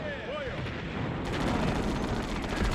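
Katyusha rocket volleys in the World War II strategy game Sudden Strike Gold, heard as a dense, continuous rumble of rapid launches and distant blasts that builds slightly louder.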